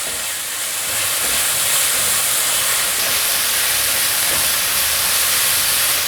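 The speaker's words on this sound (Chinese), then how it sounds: "快速翻炒，让调味料和食材融合，把调味料炒香" Vegetables stir-fried in a hot pan with vegetarian oyster sauce and soy sauce, giving a loud, continuous sizzling hiss that holds steady throughout.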